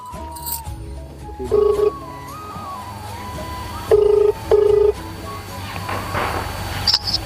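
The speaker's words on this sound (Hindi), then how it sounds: "अपने फुफ्फा लगे जरा फोन मिलाओ" Three short electronic touch-tone beeps of a telephone being dialed, one near the start and two close together later, over background room noise and a faint steady hum.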